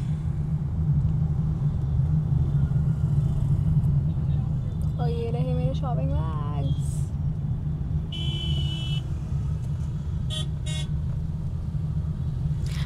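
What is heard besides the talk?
road traffic with car horns heard from a vehicle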